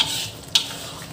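Prawn curry paste blended with curry powder being stirred in a pan, a brief close sizzle with a single sharp scrape of the utensil partway through.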